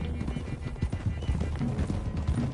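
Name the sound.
horses riding in the video game Red Dead Redemption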